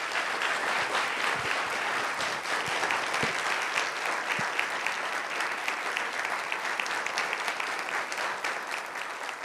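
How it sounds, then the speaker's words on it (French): Sustained, dense audience applause after an interview about the Haitian Revolution, a steady wash of many hands clapping at even loudness throughout, with no voices over it. "on peut l'applaudir s'il vous plaît"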